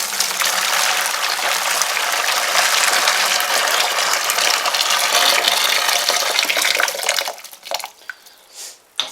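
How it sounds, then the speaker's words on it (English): Water pouring from a tap into a plastic homebrew fermenter for a brown sugar lager, a loud, close, steady gushing rush that cuts off near the end, leaving a few drips and clunks. "I'm just going to put a couple of litres of water into the fermenter first."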